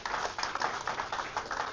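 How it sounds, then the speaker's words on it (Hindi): Dense, steady clapping from a crowd at a college prize distribution and elocution competition, a continuous wash of overlapping claps with no gaps throughout. "उनके लिए भी जोरदार तालियां।"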